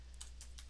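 Three quick key presses on a computer keyboard, close and light, over a steady low electrical hum with no talking.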